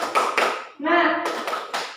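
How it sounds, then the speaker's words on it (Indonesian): A classroom group of standing students does a spirit clap (tepuk semangat) in a rhythmic pattern of sharp claps, broken up by a brief shouted group chant between the bursts. "Silakan berdiri semua. Tepuk semangat."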